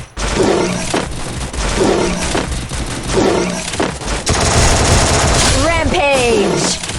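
A Thompson submachine gun fires in a video game, loud rapid bursts of automatic fire in several repeated volleys, followed by crashing and whooshing effects, with someone talking over it.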